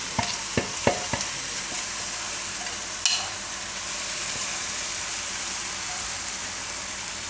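Mung dal mixture frying in oil for a ridge gourd curry, a constant close sizzle with a few sharp spoon taps early on and one clack near the middle, then steady hissing alone.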